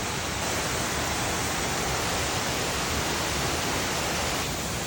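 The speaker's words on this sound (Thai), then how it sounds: "น้ำตกชั้นที่หนึ่งนะ" Dense, unbroken roar of the first tier of a waterfall, loud and steady from close range, with no voices.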